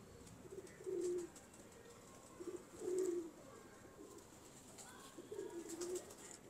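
Fancy pigeons, prized flying birds, give three soft throaty coos in separate bursts, faint and close against a quiet background with no talk.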